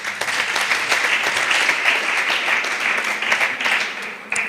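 Audience applause at a church testimony gathering in Nairobi: dense, steady clapping from a crowd that holds at an even level for the whole stretch.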